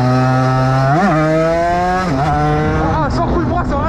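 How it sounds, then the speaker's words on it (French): Derbi 80 moped with a performance kit, its two-stroke engine revving hard and loud with a clutch kick in second gear, the pitch rising in sharp surges and dips across several seconds, close to the microphone. "Ah viens je mets un coup d'embrayage en 2, juste pour voir."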